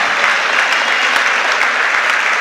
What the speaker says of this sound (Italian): un forte applauso per la seconda squadra classificata